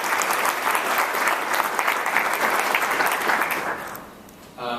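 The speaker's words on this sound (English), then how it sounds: "Please, let's give them all a round of applause." A large audience at a Chicago hate crimes summit claps in a full, steady round of applause that holds strong for about four seconds, then eases off.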